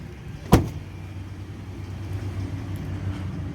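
Rear door of a 2021 Ford F-150 XLT swings shut with one sharp, close thud, followed by a quiet low hum in the background and no speech.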